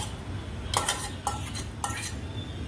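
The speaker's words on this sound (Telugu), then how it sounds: "ఇప్పుడు మనం పచ్చిమిరపకాయలు, టమాటాలు వేసేసుకొని నూరేసుకుందాం" Cooked green chillies and tomatoes being worked in a stone mortar for a rustic chutney, heard as three short, close scraping and knocking strokes over a quiet background, with no talk.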